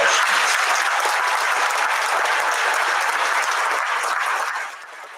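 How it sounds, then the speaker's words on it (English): Audience applause at a school band spring concert, a dense, steady wash of clapping from a large crowd that holds loud for several seconds, then thins and fades near the end. "Please help me give this big group of people a round of applause for all their support of our students."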